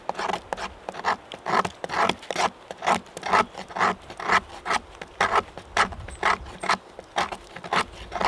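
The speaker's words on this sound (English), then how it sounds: "I'm just collecting a little pile of shavings down the bottom there." Knife shaving strips off a piece of wood into a small pile of shavings for kindling outdoors, a steady run of rhythmic rasping scrapes, close and fairly loud, about two strokes per second with no talking.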